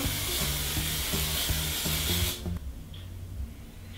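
A steady, close hiss of aerosol spray makeup onto a cheek sprays continuously for about two and a half seconds, then cuts off abruptly, leaving faint low room noise.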